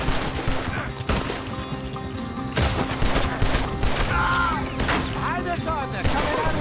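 Gunfire from a shootout in the video game Red Dead Redemption II, with dense, repeated shots and booming blasts crowding one another over game music and shouting voices.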